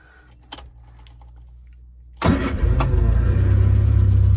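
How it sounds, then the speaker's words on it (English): A hot MG Midget 1500 cranks and catches after a couple of seconds of faint clicks, then settles into a loud, steady, close idle. "quick video start up and running on this MG Midget."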